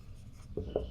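Pen writing by hand on paper while filling in a bank reconciliation statement for an accounting exercise, with soft continuous scratchy strokes and two brief firmer marks, faint and close, with no talk.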